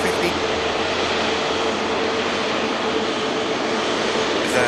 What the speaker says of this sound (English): Maybe we've just been waiting for this lot to taxi out, this Virgin Atlantic 350.